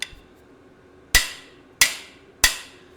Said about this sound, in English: Whoop it with the hammer again.